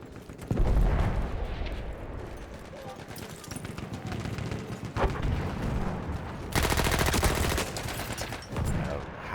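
Battlefield 1 combat fills the scene with bursts of gunfire, sharp shots and rattling volleys repeating throughout at close range, with someone talking over the shooting at points.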